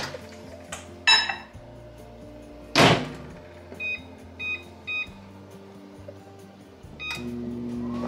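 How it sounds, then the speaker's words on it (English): A microwave beeps in short tones while melting butter, amid clunks and a door slam, with a low hum running underneath. "I'm gonna take about a half a stick of butter and melt this in the microwave"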